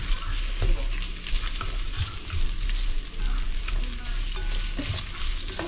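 Onion and ginger sauté in a pan for a beef balbacua dish, a steady bright sizzle running throughout with occasional stirring scrapes, close and fairly loud, no talking.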